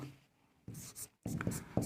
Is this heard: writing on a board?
yes